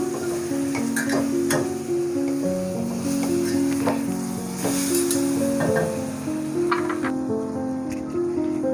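Stuffed green chillies with lemon juice sizzling and being stirred in a pan, a steady moderate fry with clinks of a spoon under background music, and a voice speaking briefly.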